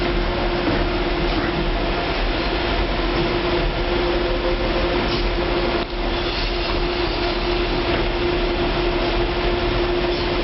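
Steady, loud rumbling hum of a train bound for Stratford at Canary Wharf, running continuously with little change and one brief dip midway.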